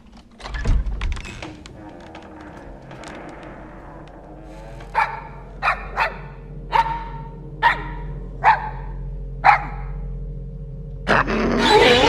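A dog barks in short single woofs, about eight of them spaced a second or so apart, close by in a quiet room.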